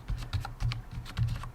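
Quick, close keystrokes on a computer keyboard while entering a command in Kali Linux, a brisk irregular patter of about eight clicks with no talking.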